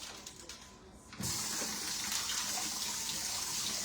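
Tomatoes are rinsed under a running kitchen tap; after a quiet start, the water suddenly gushes on and streams steadily, bright and close, with no voices.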